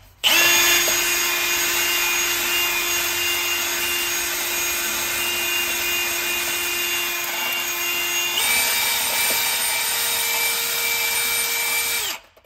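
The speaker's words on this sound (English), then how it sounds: "I've just been real careful that I'm not going to hit an elbow or a pipe and drill through it" Power drill boring near a drain pipe while a blocked drain is being cleared, with a loud, continuous, close whine that shifts pitch partway through and stops abruptly near the end.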